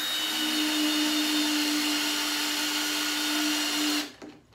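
A cordless drill with a battery running low drives screws into pallet wood for patio furniture, one steady whining run for about four seconds that cuts off abruptly, no talking.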